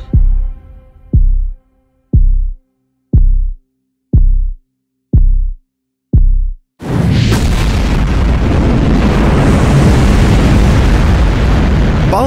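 Saturn V rocket launch of Apollo 11 in documentary footage: a slow series of seven deep, booming thuds like heartbeats, then an abrupt, overwhelming, sustained roar of ignition that stays loud and dense to the end.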